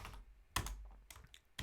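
Quiet keystrokes on a computer keyboard come in a few separate bursts of clicks with short pauses between them, close and soft, with no talking.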